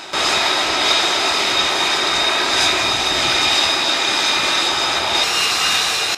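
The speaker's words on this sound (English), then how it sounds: "F-35Bs are able to fly to and from one another's decks" F-35B stealth fighter jet on the aircraft carrier HMS Queen Elizabeth, its engine giving a steady, loud, broadband roar with a high whine that holds throughout, no voices.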